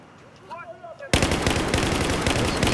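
Rapid sniper and automatic gunfire erupts loud and close in a Battlefield 4 Rush match on the Hangar 21 map, a sustained burst of cracking shots after a brief quiet opening with faint chatter.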